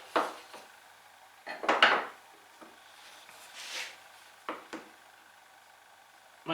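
A knife scores a line into wood to form a knife wall for sawing, with a few short, faint scraping strokes and light taps spread over several seconds in a quiet workshop.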